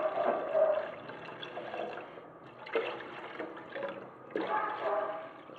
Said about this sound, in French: On va ajouter de l'eau.